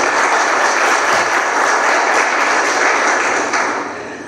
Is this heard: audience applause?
yes